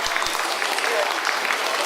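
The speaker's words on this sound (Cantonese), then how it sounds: "掌聲有請。" A short burst of audience applause at a community event welcoming a speaker to the stage, a full crowd clapping close and loud with a few low thumps at the start.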